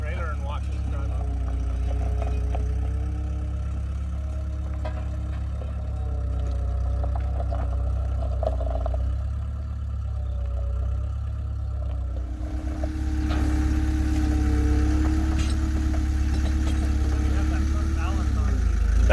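A 1974 Bricklin SV1 with an AMC V8 rumbles low and steady, the engine note swelling slightly as it climbs onto a trailer, with people talking over it throughout.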